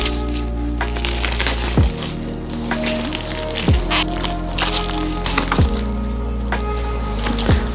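Unboxing a Norse-themed Scandinavian Beowulf oracle tarot deck: close, continuous crinkling and crackling of packaging being handled, with sharper snaps scattered throughout and a low, steady tonal hum underneath.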